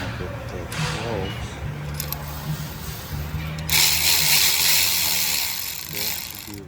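A ratchet removing bolts on a Honda Civic Type R FL5 under repair for a clutch clicking noise, with steady clicking strokes up close and a brief, brighter burst of ratcheting midway, over a constant background hum.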